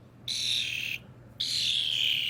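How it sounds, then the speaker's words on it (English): A small bird perched on a person's shoulder gives two high, thin calls in a row, a short gap between them. The calls are near and fairly faint against quiet background noise. "This is not the first bird to come and land on me."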